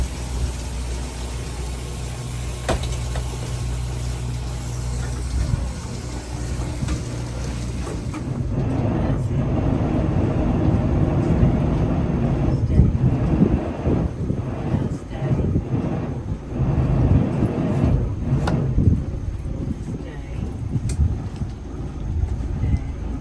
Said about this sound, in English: Starboard engine reverse, port forward, a little bit of thruster, and it walks you right off the dock.